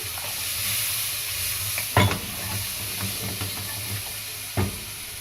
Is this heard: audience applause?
no